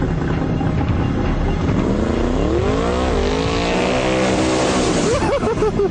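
A 2,100 brake horsepower street-legal car engine roars loudly and continuously, its pitch sweeping up and down through gear changes as the car accelerates hard on road-legal tyres.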